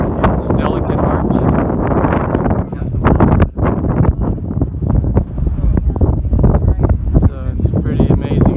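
Strong, gusty wind on a delicate rock arch buffets the microphone in a loud continuous roar, with occasional voices breaking through the rumble.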